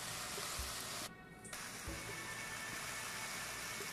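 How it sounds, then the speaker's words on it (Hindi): Turmeric and curry powder frying in oil in a pan, a soft, steady sizzle with a brief dropout partway through and a couple of faint clinks, quiet and without talk. "इसको 1 मिनट तक फ्राई करेंगे।"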